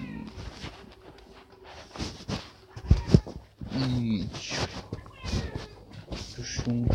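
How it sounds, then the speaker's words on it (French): A small cat meows a few times in short calls, heard over steady game music and sound effects while a person talks in French. "Petit chat."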